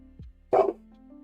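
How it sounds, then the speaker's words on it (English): A single short dog bark sounds nearby against quiet background hum, sharp and loud, with a faint whimper-like tone just before it. "That was my dog."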